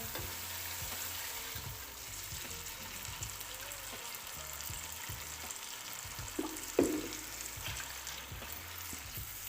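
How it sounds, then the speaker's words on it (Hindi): Spice masala with water added for a chicken kofta curry bubbles and sizzles in the pan while a spoon scrapes through it, making steady close stirring sounds with a couple of louder clanks. "और मसाले को इसके अंदर अच्छी तरह मिक्स करेंगे।"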